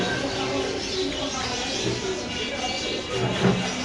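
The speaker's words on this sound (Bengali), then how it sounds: "এটা হলো আফসান গিজাল মাদি কবুতর" Soft, low cooing from an Afshan grizzle female pigeon among other pigeons at a seller's, repeated coos close by under general background noise.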